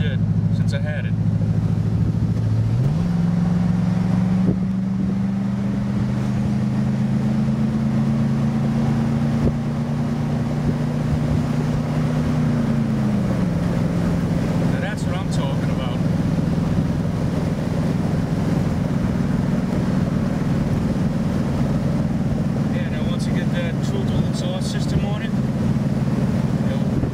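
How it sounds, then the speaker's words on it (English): A 1951 Studebaker Commander Land Cruiser is floored, its engine note climbing steadily for about ten seconds before dropping sharply on the downshift, then droning on loud and close with wind noise and occasional talk. "then I'm gonna floor it and I'll downshift"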